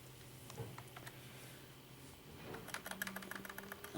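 Fingers typing on a computer keyboard while testing a generic Athlon XP desktop PC, soft scattered clicks at first that turn into quicker, crisper bursts of keystrokes toward the end, close and quiet.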